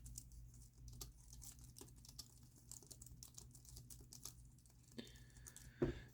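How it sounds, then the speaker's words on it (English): Light, quiet typing on an ultra thin rechargeable Bluetooth keyboard produces soft, rapid key clicks in an uneven patter, close up and faint, with one slightly louder tap near the end. "so I really like the typing on this keyboard"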